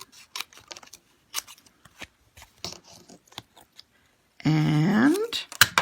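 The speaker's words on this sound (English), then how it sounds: "I just like cutting using that white cardstock as my guide. So I'm going to trim around the edges" Scissors trimming around the edges of white cardstock for a handmade card, a run of crisp, close snips and paper rustles, followed by a brief louder burst of voice-like sound.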